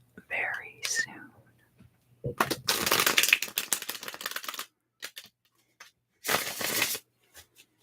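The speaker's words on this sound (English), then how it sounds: "I will be done shuffling your cards very soon" Tarot cards are shuffled in quick crisp riffling bursts, close and soft in a quiet whispered setting, with pauses between rounds of shuffling.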